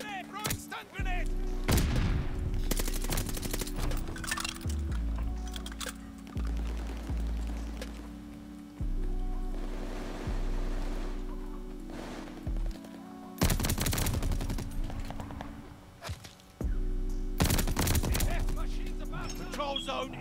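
Repeated bursts of automatic gunfire in the multiplayer shooter Call of Duty Vanguard, loud and close, with sustained rapid volleys broken by short pauses and a steady low game hum underneath.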